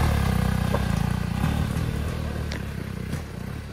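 A CFMOTO adventure motorcycle rides along a gravel road, its engine pulsing in a steady, close, fairly loud drone with a faint clatter and no talking.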